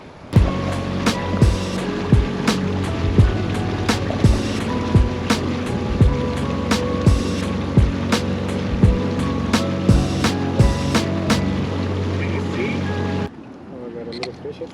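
Boat ride on a lake with a loud, steady motor drone and regular rhythmic slaps of water against the hull, heard up close before the engine drops away near the end.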